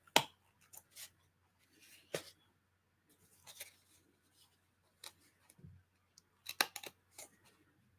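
Quiet, sparse snips of scissors trimming paper for a junk journal, crisp paper sounds, a few isolated cuts separated by pauses, close up in an otherwise silent room.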